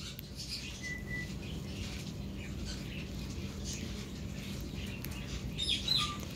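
A baby parrotlet and a baby lovebird chatter quietly, with soft chirps and small calls scattered over a low steady room hum, growing slightly louder near the end.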